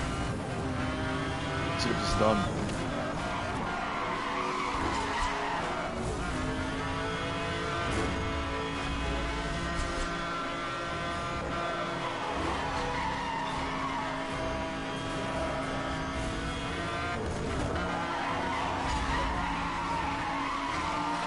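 A hyperclass Bugatti races in Need for Speed: Hot Pursuit Remastered, with a continuous loud engine roar, tire squeals and skidding, and someone speaking briefly over the din.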